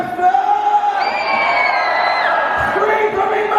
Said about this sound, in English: Scream for me, Manchester!